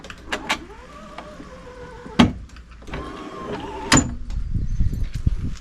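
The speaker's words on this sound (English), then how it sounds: "it has an electric step, which is just inside your door here" An electric step on an offroad composite caravan whirs out at the door, a close motor hum running for a couple of seconds with sharp mechanical clunks as it starts and stops, followed by shuffling.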